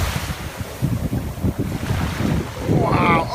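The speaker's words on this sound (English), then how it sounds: "Those are some big waves, buddy." Big ocean waves surge and wash onto a beach on North Captiva, a loud, continuous roar with heavy wind buffeting the microphone.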